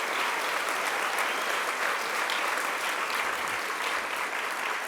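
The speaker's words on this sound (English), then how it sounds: "Give the chairman a great round of applause." A crowd at the 2015 GEAR UP National Conference applauds the chairman, a thick, continuous burst of clapping that stays loud and even from start to finish.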